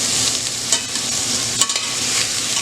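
Browning meat pieces stirred in a hot pan: a loud, close, continuous sizzle broken by a few quick scraping stir strokes.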